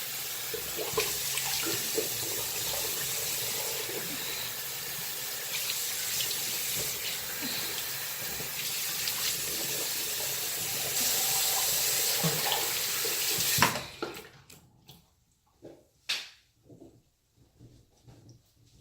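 A bathroom tap runs in a steady, loud rush into a sink while a face is rinsed, then cuts off abruptly, leaving a few splashes and drips.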